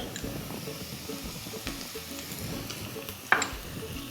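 Onion, carrots, French beans and cabbage sauté in a pan over high heat for coriander soup, giving a soft steady sizzle with light stirring and one brief clink of a utensil.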